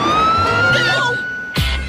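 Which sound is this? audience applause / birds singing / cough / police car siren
police car siren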